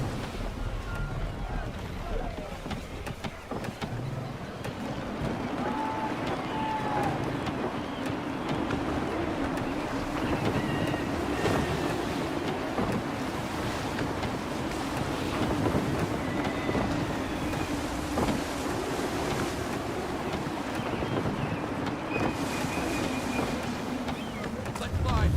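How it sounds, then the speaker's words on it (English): Steady wind and sea wash surround a sailing ship in Assassin's Creed 3, a continuous rushing bed with creaks and low rumble underneath, while voices talk over it. "Wind looks to be shifting. Stay alert, Connor. Gusty winds can be difficult to manage."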